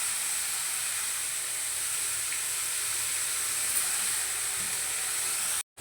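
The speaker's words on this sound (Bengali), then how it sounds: "পেঁয়াজের সাথে একটু নুন দিয়ে দিলাম পেঁয়াজটা ভাজা হোক" Sliced onions frying in oil with a pinch of salt give off a steady, even sizzle that holds at a constant level for several seconds and then cuts off abruptly near the end.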